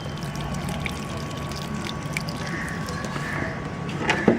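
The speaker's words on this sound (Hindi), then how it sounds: "थोड़ा थोड़ा पानी डालें, इतना पानी डालें कि नीचे से ड्रेन आउट हो जाए।" Water trickles and pours gently into a plastic bottle planter and drains out through the bottom. The flow is soft and steady, with a few small splashes near the end.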